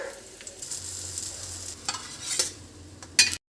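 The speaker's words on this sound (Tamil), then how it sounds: "இப்போ நம்ம தோசை கல்லில் தேங்காய் எண்ணெய் ஊற்றிட்டு நம்ம செஞ்ச முட்டை கலக்கியை போட்டுக்கலாம்" Egg omelette mixture with small onions sizzles in coconut oil on a dosa pan, a steady close sizzle with scraping stir sounds and a few sharp clinks before it cuts off abruptly.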